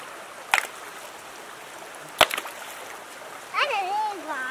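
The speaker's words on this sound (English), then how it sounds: "Callie's still throwing rocks in the water." Two sharp, separate splashes from rocks tossed into a small Vermont stream with little waterfalls, over a faint background trickle, followed by a voice speaking near the end.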